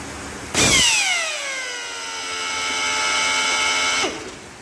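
A pneumatic auto-feed drilling machine spins up with a sharp rising whine, runs steadily for a few seconds, then winds down and stops.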